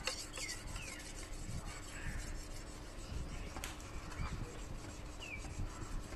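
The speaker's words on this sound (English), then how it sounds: "I'm using this 1002 grit stone, the sharpening stone," A knife edge is drawn slowly across a 1000 grit sharpening stone, giving a quiet, steady rasping scrape that repeats in soft strokes.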